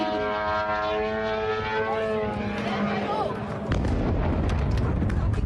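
A drone strike hits a US consulate car park, heard as a droning aircraft-like whine and then a sudden heavy explosive boom that leaves a loud rumbling roar, with voices talking over it.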